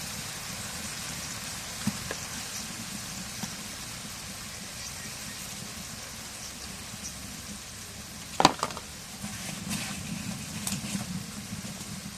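Cumin and garlic paste with garam masala paste sizzling in hot oil in a pan for a fish curry, a soft constant fry hiss with a sharp clatter near the end, no voices.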